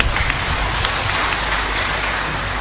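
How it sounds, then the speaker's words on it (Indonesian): Steady, dense applause from an audience honouring Pak Muhammad Ali at a religious talk, a continuous wash of many hands clapping at even loudness for the whole stretch, with no voices standing out. "Tepuk tangan untuk Pak Muhammad Ali."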